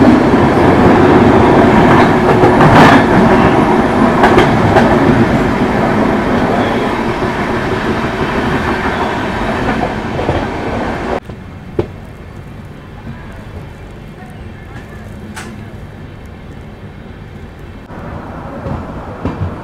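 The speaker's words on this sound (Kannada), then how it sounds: "ನಮ್ಮ ಟ್ರೈನ್ ಸದ್ಯಕ್ಕೆ ತಲುಪಿದೆ ಬೆಂಗಳೂರು ಕ್ಯಾಂಟೋನ್ಮೆಂಟ್ ರೈಲ್ವೆ ಸ್ಟೇಷನ್ಗೆ." Inside a 3A coach of the Udyan Express from Bengaluru toward Mumbai, a loud, continuous rumble of wheels and carriage rattle drops abruptly to a quieter hum as the train slows.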